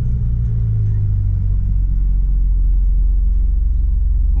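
A Porsche GT3 RS engine fires up and settles into a loud, deep, steady idle with a low throbbing rumble, close by and with no talking.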